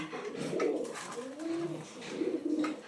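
Pigeons coo softly nearby in a few low, rolling phrases, one after another. No voices are heard.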